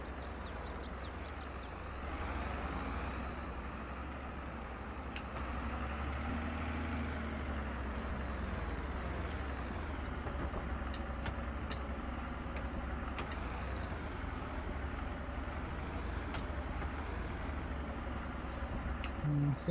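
A tractor engine idles and runs in Farming Simulator 22, a steady low drone with gentle swells in pitch and a faint whine on top, continuous and unbroken with no voices.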